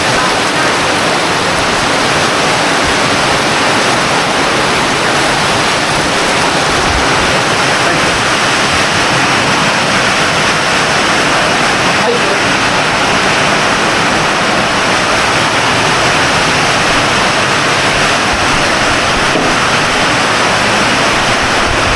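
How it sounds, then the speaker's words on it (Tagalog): A long, unbroken roar of heavy rain, loud and steady with no voices, like a downpour drumming on surfaces nearby. "Malakas na naman ang ulan."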